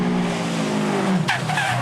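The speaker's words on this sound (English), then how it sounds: "when the Subaru got light over a bump, they understeered into the embankment" A Subaru STI rally car at Targa Newfoundland skids with tire noise and engine drone, then a sharp impact bursts in as it hits an embankment, close and loud, with no talking.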